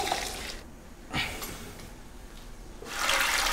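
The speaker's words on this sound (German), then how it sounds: "Der Kies muss, bevor er ins Aquarium kommt, gut gewaschen werden" Aquarium gravel being rinsed and swished in water, with splashy washing bursts near the start, a brief surge around one second and a louder swirl at the end.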